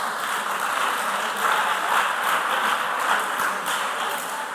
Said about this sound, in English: Can we give our contestants a round of applause?